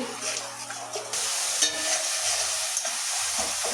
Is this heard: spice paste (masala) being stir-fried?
yes